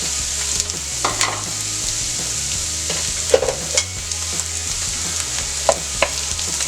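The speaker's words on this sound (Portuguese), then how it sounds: "Vamos fritar eles agora até a cebola começar a ficar transparente" Onion and garlic frying in a drizzle of olive oil in a pan: continuous close sizzling hiss with intermittent sharp scrapes and taps of a spoon stirring, no voices.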